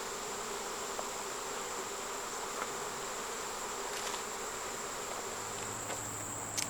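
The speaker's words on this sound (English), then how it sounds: "A late season swarm." A late-season honeybee swarm in fall gives a continuous, dense buzzing hum, steady and fairly loud, with occasional individual bees passing closer.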